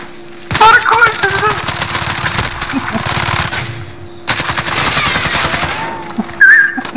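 Rapid automatic gunfire in a Call of Duty Search and Destroy match, dense bursts of shots loud and close, pausing briefly before another volley, with a chirping game tone near the end.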